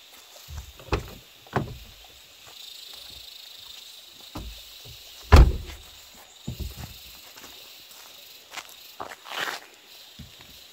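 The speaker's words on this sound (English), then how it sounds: "Let's open back the car." A car door is opened outdoors on a farm, a single sharp thump standing out near the middle amid scattered footsteps and light outdoor knocks.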